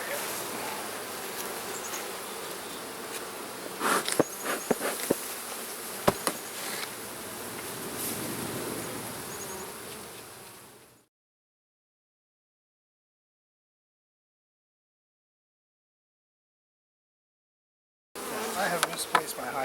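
Honeybees buzz steadily around a massive open hive being split, with a dense insect drone close by, a few louder bursts, then a long stretch of silence before the buzzing returns.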